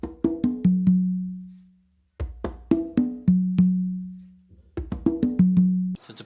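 Three congas play a songo rhythm in two short phrases, crisp open tones and slaps stepping down onto a ringing low tumba note, close and clear with a brief pause between phrases.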